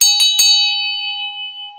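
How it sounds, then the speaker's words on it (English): A handheld chuck wagon bell rings out three quick strikes, close and bright, then its metallic tone hangs and slowly fades for over a second, with no voices. "the chuck wagon bell"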